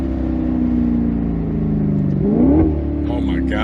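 Maserati GranCabrio V8 engine revving: a steady, loud engine drone that climbs sharply in pitch near the end, then settles back into a lower hum.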